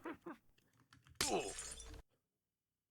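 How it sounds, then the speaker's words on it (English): Glass breaks in a Minecraft game with a sharp, bright shatter lasting about a second, after a few faint clicks, then silence. "I thought that the glass broke beneath my feet, but it was just the noise."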